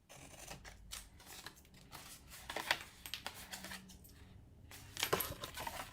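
Scissors cutting paper for a DIY octopus gift box, making quiet crisp snips and rustles in irregular bursts, close but faint, with no talking.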